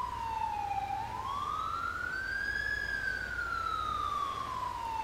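Ambulance siren in the video game GTA 5, a single loud electronic tone sweeping slowly down, then up and back down, held steady throughout over a low rumbling background.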